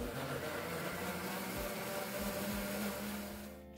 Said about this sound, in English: You're going to hear some noise in the blender. I'm just going to blend it on medium.